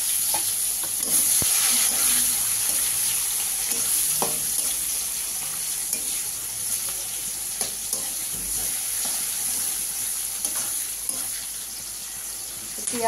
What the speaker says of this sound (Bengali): পেঁয়াজটা লাল লাল ভাজা হবে